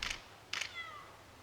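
A Burmese cat meows twice at a temple, two short, faint cries about half a second apart over a quiet background with a light mechanical creak.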